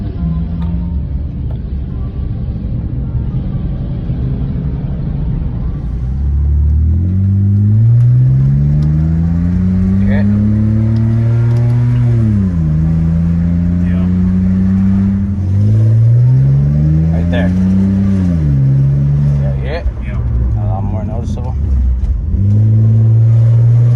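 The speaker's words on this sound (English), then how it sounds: "You just heard a little bit of a squeak sound or something like scraping" A BMW E46 with a freshly swapped transmission driving on the street, its engine rising and falling through several revving pulls, with squeaky, scraping whines sweeping along with each acceleration.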